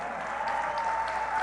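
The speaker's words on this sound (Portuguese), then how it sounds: "peço a salva de palmas, Camilo Santana da Educação." A large crowd at a public event in Bahia, where the president announces health investments, applauds the Minister of Education, Camilo Santana, with a brief, dense, steady wash of clapping over a faint sustained tone.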